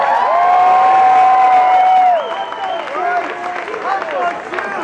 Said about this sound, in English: I wanna hear a round of applause for everybody that dressed up tonight.